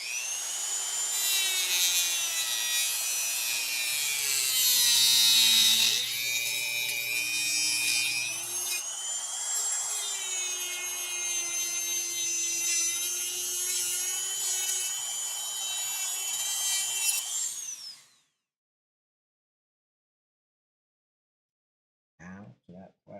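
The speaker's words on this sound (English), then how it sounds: "Sonny, let's Dremel." A Dremel rotary tool cuts into a plastic trading card case with a loud, close, high-pitched whine. The whine holds steady for about eighteen seconds, then cuts off abruptly, leaving silence followed by a few brief faint sounds.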